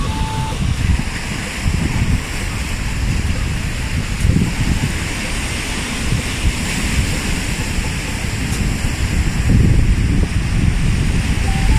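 Strong coastal wind roars steadily at a Fukuoka seashore as Typhoon No. 25 approaches, a loud, continuous rush with broad gusty swells and surf-like noise and no pauses.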